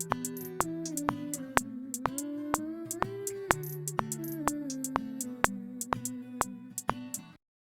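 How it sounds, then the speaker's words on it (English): Two hi-hats panned left and right in a programmed drum beat for a hip-hop remake of a song, regular crisp ticks with occasional rolls riding over a held melodic bed, ending abruptly. "Now we've got a hat on the left and a hat on the right"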